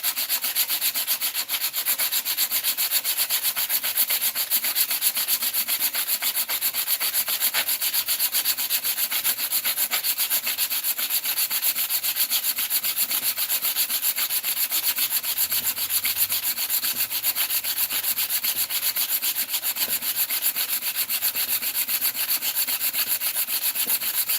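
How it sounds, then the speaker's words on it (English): Wood being sanded by hand, a continuous close, even scratchy rubbing that keeps up without pause, with no voices. "A lot of sanding and we ain't through nothing yet."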